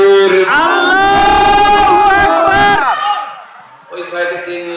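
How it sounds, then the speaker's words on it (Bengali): A large gathering at a mosque mahfil shouts takbir together in unison, a loud massed chant of many voices that swells and holds for several seconds, then drops and rises again into a second, softer collective response. "একদম হাই পাওয়ারের একটা তাকবীর হবে। দেখি আপনাদের কত আওয়াজ আছে।"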